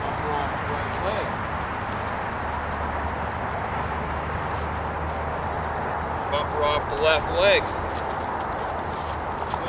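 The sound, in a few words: horse hooves clip-clopping while ridden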